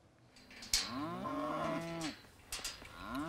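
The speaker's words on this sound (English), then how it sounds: "Clint's daughter Sadie and son Kason helped move cattle to new pasture." Cattle being moved to new pasture on an Oregon ranch, several moos from one or two animals close by, drawn-out lowing calls with brief pauses between, no talk.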